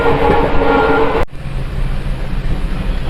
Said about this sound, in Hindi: ये जो ट्रेन चल रहा है ना, कुलिक एक्सप्रेस, जो कि आज से LHB हुआ है